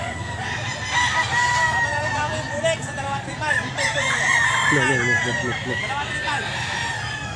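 Boston Roundhead rooster crowing at a pet market, several crows and clucks from nearby birds amid a busy, noisy crowd, with people talking throughout.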